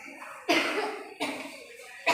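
A woman coughing with a harsh, hacking cough, three separate bursts spaced apart, close and fairly loud.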